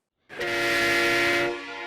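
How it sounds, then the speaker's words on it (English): A train horn fitted to a Kenworth truck sounds one loud, sustained chord that holds for about a second and a half, then eases slightly but keeps ringing until the end. "You got yourself a train horn."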